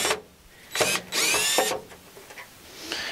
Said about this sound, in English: Got a drill and a Phillips bit. We're just gonna take these out real quick.